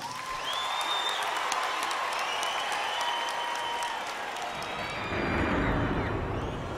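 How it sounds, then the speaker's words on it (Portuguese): Live concert crowd applauding and cheering at a gospel music show, a broad sustained roar with singing or sustained tones layered over it and a deeper swell near the end. "Uma salva de palmas."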